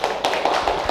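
An audience claps in quick, fairly regular beats, with each clap close, crisp and clearly separate across a short burst.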